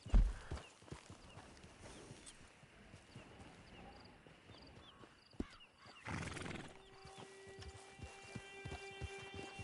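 A horse whinnies over a steady clip-clop of hooves, with a second whinny partway through and hoofbeats carrying on at a moderate distance, in the video game Red Dead Redemption 2.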